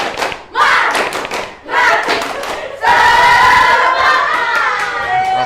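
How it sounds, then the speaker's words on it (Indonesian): A classroom of students performs a rhythmic spirit clap with their teacher: bursts of claps and shouting voices, followed by sustained crowd cheering and chanting. "Tepuk semangat."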